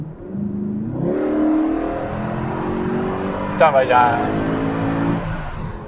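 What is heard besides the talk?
Mercedes C63 AMG engine revving, high-pitched AMG sound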